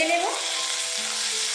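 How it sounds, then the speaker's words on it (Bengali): Onion, garlic paste and ginger paste fry in hot oil with a steady, broad sizzle and a brief tonal clink at the start, continuous and close with no talking. "একসাথে আদা রসুন পেঁয়াজটা আমি ভেজে নেব।"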